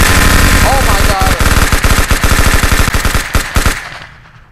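Rapid automatic gunfire in the VR physics game Project Third Eye: a loud, dense burst of shots that breaks into separate cracks and then fades out quickly.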